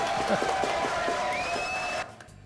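Studio audience at a French TV talk show applauds and cheers an introduced guest, a dense continuous wash of clapping with a few whoops, cutting off abruptly near the end.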